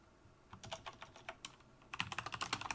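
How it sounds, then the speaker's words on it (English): Keys clattering on a computer keyboard in quick bursts, a pause then a faster flurry of clicks, close but fairly quiet, with no voices. "typing has kept changing my scenes"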